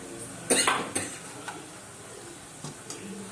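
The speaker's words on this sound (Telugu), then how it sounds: "వేసి ఒకసారి ఇలా కలిపేసుకోవాలి" Cardamom powder stirred into jaggery syrup, with a spoon clinking against a metal pot in a few sharp knocks followed by softer scraping taps, close and fairly quiet with no talk.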